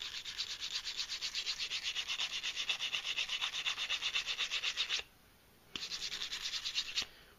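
Fine 600 grit sandpaper rubbed by hand over a wood surface in steady back-and-forth scratchy strokes, close and quiet, pausing briefly near the end before a few more passes.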